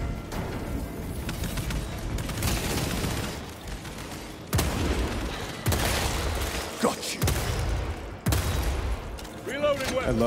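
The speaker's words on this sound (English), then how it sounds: "I love this gun." Gunfire from a bolt rifle in the video game Space Marine 2, dense bursts of loud shots and booms running through the whole stretch amid battle noise, with a sharp break and renewed volleys later.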